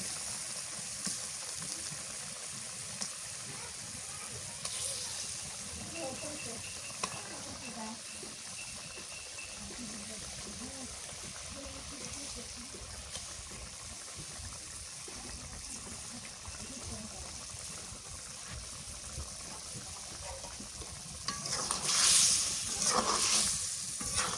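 Hilsa fish pieces hit a pan of fried spices and sizzle with a steady broadband hiss and watery crackle that runs throughout, with a brief louder burst near the end; a voice is heard at times.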